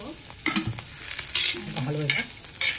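A spoon scrapes and stirs masala paste roasting in a little oil, with soft sizzling and irregular scraping strokes, close and moderately loud.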